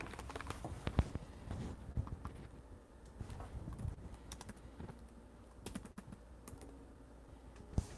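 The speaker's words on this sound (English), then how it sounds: "Oops, typing that wrong." Rapid, uneven clicking of keys on a computer keyboard, close and fairly quiet, with irregular bursts of keystrokes and a few sharper taps, no talking.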